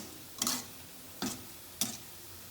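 Maida biscuits frying in hot oil are stirred three times, each a short scraping clatter over a faint, steady sizzle.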